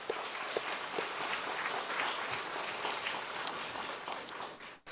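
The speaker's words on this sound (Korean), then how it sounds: "우리 이쯤 되면 서로를 위해서 한번 격려의 박수 보내야 하지 않을까요?" Staff at a Wednesday worship service of a hospital medical center break into sustained applause of encouragement, a dense steady wash of many hands clapping that cuts off abruptly at the end.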